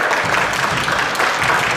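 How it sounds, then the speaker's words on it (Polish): Loud, close applause from spectators honouring climbing competitors at an awards ceremony, a dense, steady patter of many hands that holds an even level for the whole stretch. "Jeszcze wielkie brawa"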